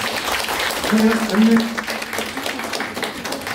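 Residents at a redevelopment association meeting in a hall applaud, a moderate crowd clapping with a voice speaking over it briefly.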